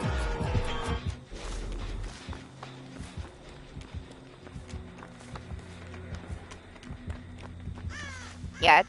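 Crow caws in the Dead by Daylight video game, a loud harsh burst near the end amid game ambience and footstep-like thuds, with a voice briefly audible.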